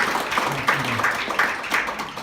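Clapping from attendees at an organizational meeting, a moderate patter of applause with a faint voice murmuring low underneath at the start.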